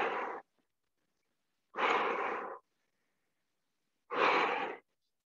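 Heavy exhales from a boot camp workout session, three strong breathy bursts spaced a couple of seconds apart with quiet gaps between, close and fairly loud with no talking.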